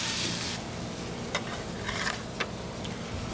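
Ribeye steaks sizzle on a Blackstone griddle, a steady hiss of frying fat with a few sharp pops and ticks, close and continuous, with no talking.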